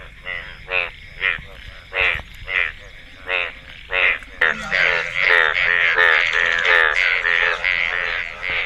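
Bright yellow frogs croak in a village pond during mating season, first in separate loud rhythmic bursts, then merging into a dense, continuous close chorus.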